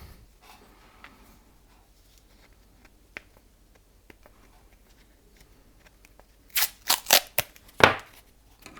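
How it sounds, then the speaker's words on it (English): Adhesive tape ripped and torn off a roll in a quiet workshop during a Trio DL703 multimeter repair, a cluster of several sharp, close tearing bursts near the end after a long faint stretch of small ticks. "Find a bit of tape and tape that up."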